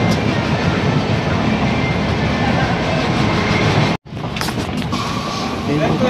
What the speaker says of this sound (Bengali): এখন আমরা ট্রেন থেকে নামছি